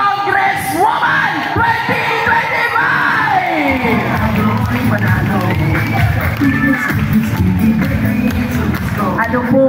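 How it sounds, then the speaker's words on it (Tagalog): A large crowd, some seated on bleachers, cheers, yells and whoops loudly at a political rally for a congresswoman's re-election bid, a continuous roar of voices across the whole stretch. "Ano po kayang ibig sabihin ng inyong palakpak?"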